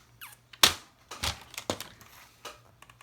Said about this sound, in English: I need to trim this down a little bit more.